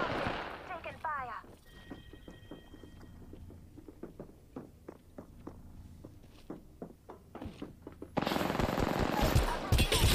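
Rapid gunfire in Apex Legends, a run of sharp shots at an even pace, moderately close and continuing under a player's talk, followed by a louder noisy burst of action near the end.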